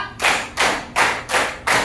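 A class claps five beats in unison: five loud, crisp claps evenly spaced in a steady rhythm, close and alone.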